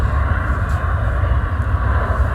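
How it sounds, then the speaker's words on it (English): Jet2 airliner at Manchester Airport after landing, a loud continuous engine roar with a deep low rumble and steady broadband hiss, unbroken throughout. "Jet 2's just landed"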